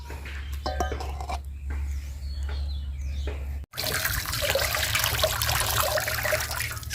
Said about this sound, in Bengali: মাংসগুলো সুন্দর করে আমি ধুইয়া নিছি